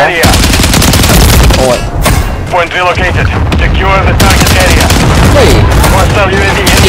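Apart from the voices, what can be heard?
gunfire in a video game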